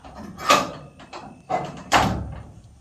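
A metal door on a Patiowell garden shed is slid and shut in three loud, close clunks, each with a short rattling metallic tail.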